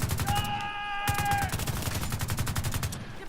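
Rapid bursts of gunfire from The Division 2 shooter game, a steady rhythmic string of close, loud shots with a brief high electronic tone near the start, no talking.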